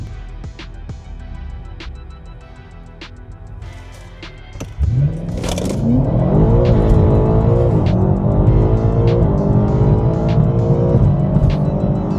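A BMW Individual M5 F90 Competition sits with light clicking and ticking before its engine fires up. Loud, rising revs follow and hold as a close, strong drone of engine power.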